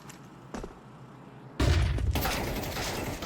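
Gunfire rings out in a competitive tactical shooter match: a quiet stretch with a faint shot, then a loud, dense burst of shots and booms that continues to the end.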